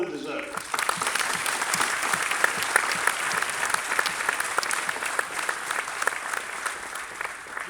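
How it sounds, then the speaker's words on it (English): Audience applause at a medical college graduation ceremony, a dense, steady wash of many hands clapping that swells in within the first second and holds strong throughout, filling the hall. "give yourselves a round of applause because you more than deserve it"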